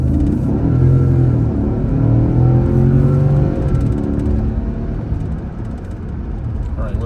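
A 2015 Cadillac Escalade Luxury 4x4 SUV accelerates, its engine rising in pitch and then dropping as the transmission shifts, a loud, close, steady interior rumble.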